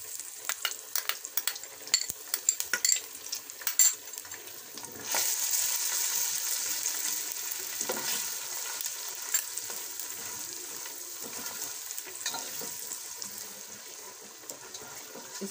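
Garlic paste fries in a pan while nihari is being made, giving a steady crackling sizzle with scattered pops and clicks of stirring, quiet and close.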